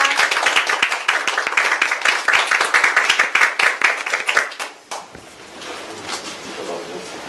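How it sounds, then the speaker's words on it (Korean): Audience applause at a political party event, dense hand clapping for the first few seconds that tapers off, followed by quieter room noise. "네, 박수 부탁드립니다."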